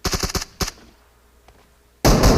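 Sniper rifle shots in a mobile battle royale shooter, a quick burst of sharp reports followed by a single louder crack, then a pause before a loud sustained blast of gunfire near the end.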